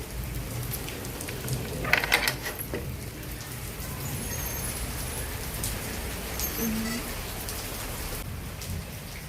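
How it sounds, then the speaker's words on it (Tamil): Light rain falling outside a home, a steady soft hiss of drops on surfaces with a brief cluster of louder patters near the start, continuous and without voices. "இப்போ கொஞ்சம் லைட்டாக தான் பெஞ்சிட்ருக்கு"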